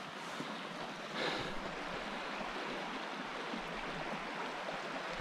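Creek water flowing steadily beside a sandy bank along Pleasant Creek in Capitol Reef National Park, a broad continuous rush with light wind buffeting, close and alone.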